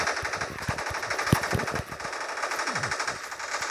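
In The Glorious Resolve video game, rapid machine-gun bursts rattle continuously over steady battle noise, close and loud, with no speech heard.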